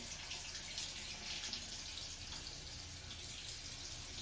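A sink tap runs steadily while hands are washed, a constant soft hiss of flowing water with no voices over it.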